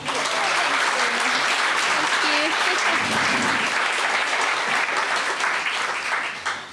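An audience at a live conversation event applauds steadily to welcome author Alice Pung, a dense, sustained clapping from a room full of people, loud throughout and fading slightly at the end.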